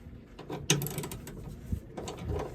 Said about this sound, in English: So we just gotta take out these bolts real quick.